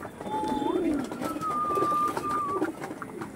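Tournament-quality pigeons coo close by in deep, rolling phrases, a thin whistling tone threading over them, steady and fairly loud with no one speaking.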